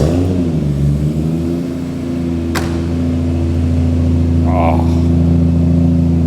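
A Ford Escort estate with a swapped Toyota 2JZ engine runs loud and close, a deep steady idle that swells briefly as the revs rise and settle, with a short sharp click partway through.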